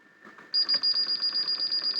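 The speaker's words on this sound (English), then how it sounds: "it makes a horrible beeping noise because we've got the bleep on" A National NV-770 VCR with its beep setting on emits a rapid string of short, high electronic beeps, about a dozen evenly spaced pulses, loud and close over a faint steady hum.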